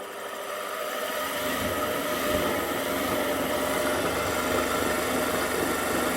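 A hand-cranked generator lighting a row of bulbs spins up into a steady, loud whirring drone that holds without a break.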